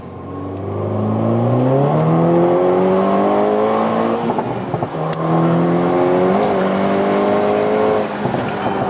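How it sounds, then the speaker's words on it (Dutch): A car engine with an aftermarket exhaust revs hard and climbs in pitch, its loud exhaust roaring and popping, easing off, then revving up again close by. "heb je een andere uitlaat eronder gezet dat hij zo hard knalt?"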